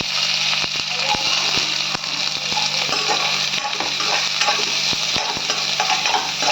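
Curry leaves and onion sauté in a pan for coriander rice, a loud continuous sizzle punctuated by sharp crackles and spoon taps against the pan.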